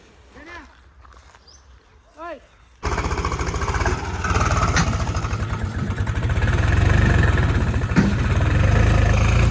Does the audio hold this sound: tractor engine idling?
yes